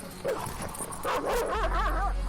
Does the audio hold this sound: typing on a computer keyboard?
no